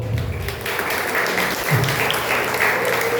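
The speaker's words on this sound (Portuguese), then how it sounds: "Palmas para a minha esposa" A church congregation applauds a pastor's wife with steady, full clapping that holds at an even level throughout.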